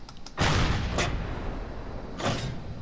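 Cannons firing in a weapons test inside a video game, two loud booming blasts, each with a long rumbling decay, plus a fainter thump between them, heard alone without talk.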